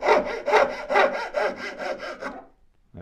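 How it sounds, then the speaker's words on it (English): A hand saw rasps through wood in about seven rhythmic back-and-forth strokes, close and loud, then stops abruptly. "before I resume sawing"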